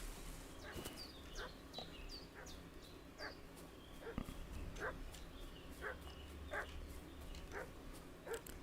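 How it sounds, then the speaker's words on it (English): A dog in Kingdom Come Deliverance 2 barks repeatedly at a moderate distance, sharp yips and barks spaced every second or so over a low ambient game background. "Where is this dog barking?"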